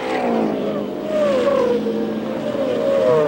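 Race cars circling the track at the 1978 Phoenix Jimmy Bryan 150, a steady high engine whine with shifting pitch sweeps as cars pass, heard throughout at moderate distance.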